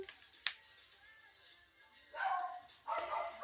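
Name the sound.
dog barking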